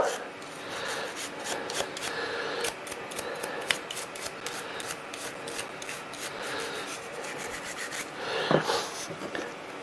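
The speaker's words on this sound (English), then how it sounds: "Sweep it around in there. Get all the crud and schmutz out." A small brush sweeps lint and grime out of the bobbin area of an old sewing machine, giving quick, close scratchy bristle strokes that repeat in a steady rhythm.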